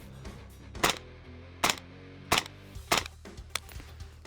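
Suppressed rifle shots fired outdoors: five muffled cracks spaced under a second apart, fairly close and moderately loud, with a faint low hum between them.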